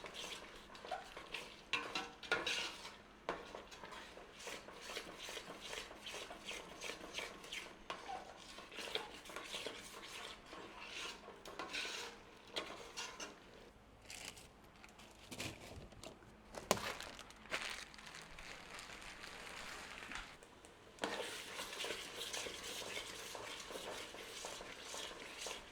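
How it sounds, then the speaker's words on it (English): Vindaloo spice paste frying in oil while being stirred around a pan, soft intermittent scraping and clinks over a faint sizzle, fairly quiet and close. "All you've got to do is keep giving it a stir around."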